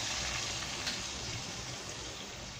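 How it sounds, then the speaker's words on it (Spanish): Pineapple syrup pours into a hot pan of smoked pork loin over lowered heat, giving a soft, steady liquid rush with light sizzling underneath that fades slightly toward the end. "voy a agregar todo el almíbar"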